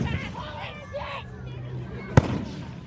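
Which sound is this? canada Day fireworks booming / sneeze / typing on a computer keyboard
canada Day fireworks booming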